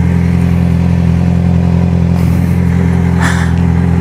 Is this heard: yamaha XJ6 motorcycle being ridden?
yes